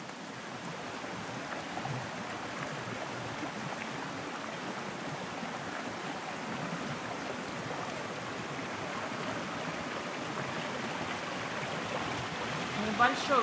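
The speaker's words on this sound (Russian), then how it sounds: "Небольшой водопадик." Small waterfall on a rocky stream, a drop of roughly 30 to 40 centimetres edged by large boulders: a steady, broad rushing wash of water, close and constant throughout with no break.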